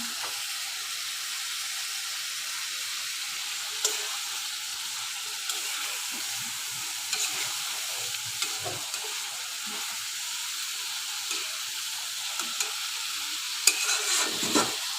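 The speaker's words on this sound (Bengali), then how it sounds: "মাছটাকে একদম ভালো করে কষিয়ে নিচ্ছি" Rui fish being sautéed as bhuna in a pan, a continuous loud hissing sizzle with occasional soft scrapes of stirring, close and without talk.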